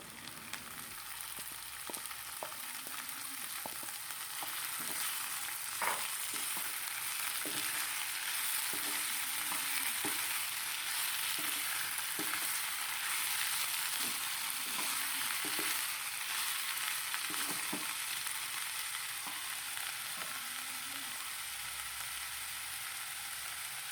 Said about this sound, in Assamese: এতিয়া পিঁয়াজ ভাজা হ'ল, এতিয়া শাকখিনি দি দিওঁ।